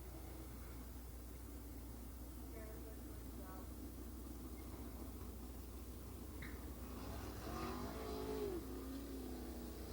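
Empire Super Sprints sprint cars run qualifying heats on the Cornwall Motor Speedway track. Engines drone at a distance, then a rising rev swells nearer toward the end, under faint crowd and announcer chatter.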